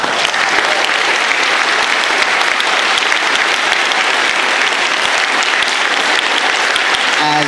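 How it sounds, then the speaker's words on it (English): Loud, continuous audience applause fills an auditorium at a convention's opening ceremony, a dense, even roar of many clapping hands sustained throughout, close and full with no talk over it. "give them a round of applause."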